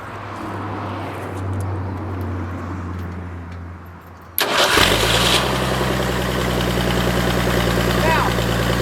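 A forklift engine with a faulty fuel pump cranks and catches, settling into a loud, steady idle with a low droning hum, after a stretch of quieter background rumble.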